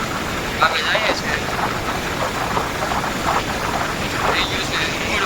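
Wind roars across the microphone in a constant, fairly loud rumbling noise, with muffled voices faintly audible underneath.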